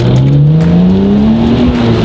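An old-school Nissan R34 GTR accelerates hard, its engine note climbing steadily in pitch over about two seconds, loud and close with no voices.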